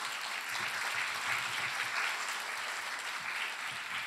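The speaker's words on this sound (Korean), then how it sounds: "뜨거운 박수 부탁드리겠습니다" A crowd applauding steadily, a dense wash of clapping that holds at an even level throughout with no voices on top.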